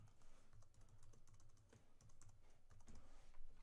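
Faint, quick keyboard typing taps out a Wi-Fi password during setup of a Vulkano Flow device. The soft irregular clicks are close and come in short bursts with no voice.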